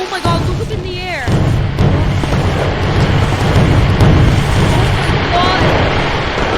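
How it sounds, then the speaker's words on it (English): Fireworks bursting outdoors, a deep rumbling boom that hits after a second and rolls on continuously like heavy crackling thunder, loud and close, with high whistling rockets rising before and near the end. "there's yellow cool fireworks"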